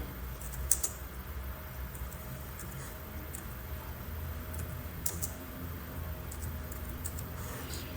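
Fingers type on a computer keyboard, light key clicks tapping in short bursts and scattered single presses, close but faint over a low background hum.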